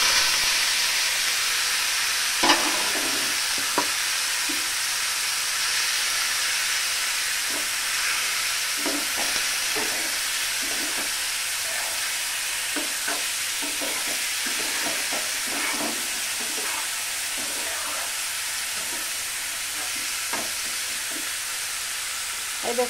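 Small fish for a Bengali chorchori go into a fully heated pan (kadai), and a steady, broad hiss of frying follows, with scattered clicks and stirring scrapes throughout. No one talks.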